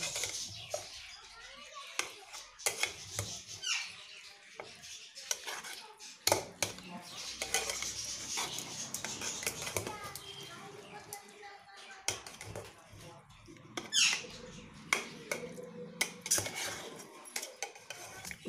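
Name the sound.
mixing marinated chicken for biryani in a pot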